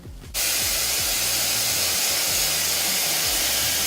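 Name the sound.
ENBUTY supersonic hair dryer running on hot and high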